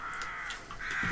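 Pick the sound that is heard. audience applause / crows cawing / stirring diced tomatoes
crows cawing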